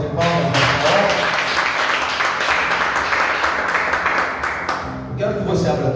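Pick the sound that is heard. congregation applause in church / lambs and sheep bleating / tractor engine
congregation applause in church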